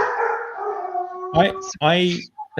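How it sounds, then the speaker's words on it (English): A dog howls and barks during a podcast conversation, a drawn-out howl followed by a couple of short sharp barks close to the mic, with speech around it. "I love when a dog barks on stream"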